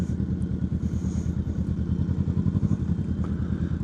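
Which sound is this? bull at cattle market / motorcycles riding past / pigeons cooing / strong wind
motorcycles riding past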